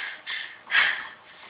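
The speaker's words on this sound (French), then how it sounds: "on l'entend qui est en train de s'essouffler." A character in the video game Far Cry pants out of breath, with a few short, airy, ragged breaths close up and no speech over them.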